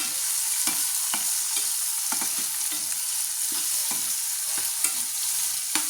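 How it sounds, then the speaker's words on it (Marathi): Ridge gourd sautéing in hot oil keeps up a constant crackling sizzle, broken by regular soft scrapes as a spatula turns the pieces, close up and unbroken. "तेलात छान असे परतून घेणार आहोत थोडंसं अशा पद्धतीने"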